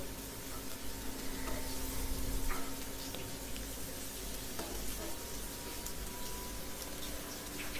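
Chopped onion sautéing in ghee in a pan for jeera rice, a steady moderate sizzle with a few faint stirring clicks scattered through.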